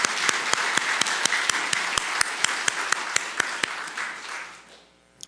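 A church congregation applauds the worship team during a Sunday service, a dense, steady wash of many hands clapping with a few sharp, loud claps standing out in a regular beat, before the applause fades away near the end.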